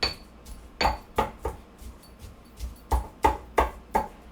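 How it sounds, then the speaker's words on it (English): Sauce ingredients including cilantro being mashed by hand, a steady series of about a dozen close, dull thumping knocks with slight clinking, spaced roughly every quarter to half second. "this is the hard work here, just mashing it up"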